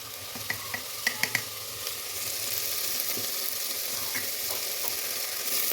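Onions frying with a little salt in a pan for a homestyle chicken curry, a steady close sizzle with a few sharp clicks of stirring in the first seconds, no talking.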